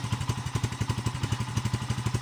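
A Bajaj CT 125 motorcycle engine runs close by. It has a misfiring fault and gives off black and sometimes white smoke, and it chugs in a steady, rapid rhythm with uneven, rough pulses and a clattery edge.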